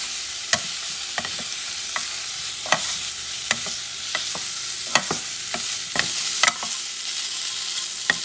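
Salami, or dry meat, cut in pieces is stirred with vegetables in a frying pan for Brazilian arroz carreteiro, with a steady sizzle broken by sharp scrapes and clicks of the utensil against the pan.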